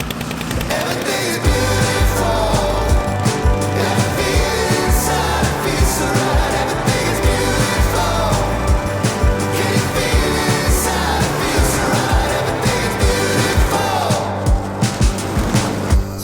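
Lawn mower cutting a grass test plot for the first time that day; a loud, continuous engine roar with rough, rattling texture runs throughout, close to the listener.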